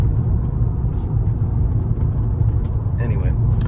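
Interior cabin sound of a 2007 Mercedes-Benz W211 E350 sedan on the move: steady low engine and road rumble runs throughout, with a brief higher-pitched noise near the end and no one talking.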